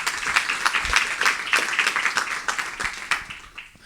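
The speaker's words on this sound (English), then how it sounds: "Let's give them a round of applause for the work they do." Audience at an academic lecture on AI chatbots breaks into applause, a dense patter of many hands clapping that stays fairly even and then tapers off near the end.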